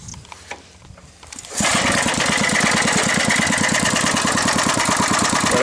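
A restored motorcycle engine fires up after a quiet moment with faint handling noises, then settles into a steady, close, loud idle with an even rapid pulse and no speech.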